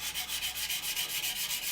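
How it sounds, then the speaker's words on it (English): A sanding sponge rubs lightly over the seams of a plastic model aircraft kit, a Revell Me 262, in steady back-and-forth strokes with an even, close scratchy rhythm and no talking. "I'll grab one, sanding sponge,"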